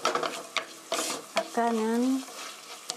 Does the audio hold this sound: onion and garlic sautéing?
yes